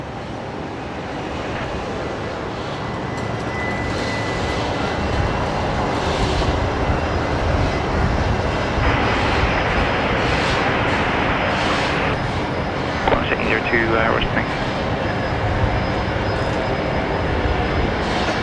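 USAF C-17 military transport jet taking off from Brisbane Airport, a loud sustained roar that swells over the first seconds and holds steady, with brief higher tonal whines layered on top.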